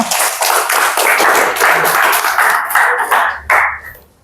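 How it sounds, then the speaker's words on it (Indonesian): A group claps together during an emotion-management workshop session, a dense, steady burst of hand claps lasting about four seconds before tapering off and fading out. "Oke, boleh kasih tepuk tangan semuanya?"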